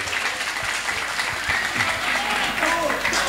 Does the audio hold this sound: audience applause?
yes